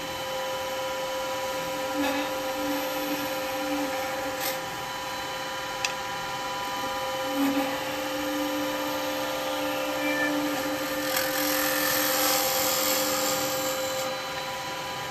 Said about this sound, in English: I'm going to use the square chisel. I'm going to take some push cuts down.